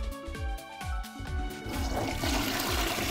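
Toilet flush in the Minecraft video game, a rushing gurgle of water building and swelling toward the end, preceded by soft rhythmic game background tones; no talking.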